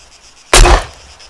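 A grenade detonates in the video game ARMA 3, one sudden loud blast with a sharp crack that fades over about a third of a second, alone with no talk.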